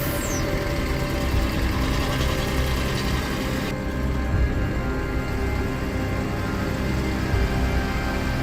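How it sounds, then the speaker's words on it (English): Heavy-duty logging truck engine straining as it crawls up a steep mountain slope, a steady loud low rumble with constant mechanical noise throughout and no clear changes in pitch. "Crawling along a deadly mountain slope, the truck faced a moment of danger"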